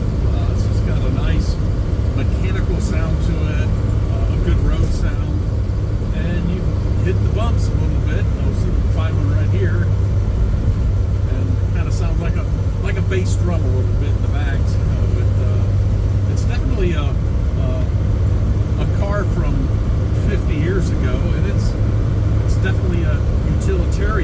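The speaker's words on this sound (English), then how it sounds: "It's just got a nice mechanical sound to it, a good road sound." Steady interior drone of a Toyota FJ Cruiser while driving, with low engine rumble and road noise under someone talking, constant and close throughout.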